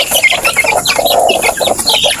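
Young one-month-old Texas chickens cluck and peep continuously in a farm pen, a busy chorus of small bird calls close to the listener.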